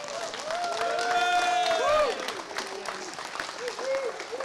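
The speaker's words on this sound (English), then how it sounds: "Round of applause for them, please." Live audience applause for a tank crew at an event, steady clapping and scattered cheers lasting several seconds, with whistles and voices rising through the crowd.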